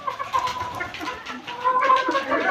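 Native and hybrid chickens, about four months old, cluck and chatter in a backyard flock. Several birds make overlapping, moderately loud clucks throughout.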